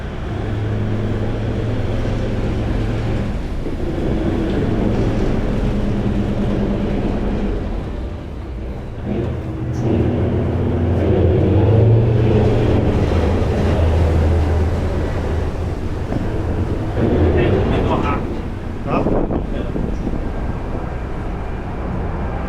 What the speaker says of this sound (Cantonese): 證明話俾人知真係好大風咯。